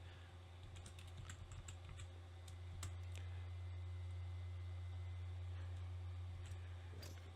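Rapid keyboard typing with irregular clicking keystrokes over a steady low electrical hum, fairly close and continuous throughout.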